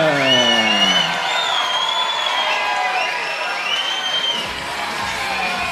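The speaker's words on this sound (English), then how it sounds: "And the crowd erupts" Crowd at a Beatdown Promotions fight night erupting in cheers, whoops and shouts after a unanimous decision is announced, loud and sustained with overlapping high-pitched yells that slowly ease off.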